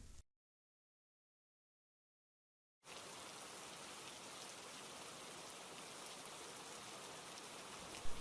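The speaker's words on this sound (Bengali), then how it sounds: "মা দেখো, বৃষ্টি পড়ছে।" Steady rain falls in a dense, even hiss after a few seconds of silence, close and constant with no voices.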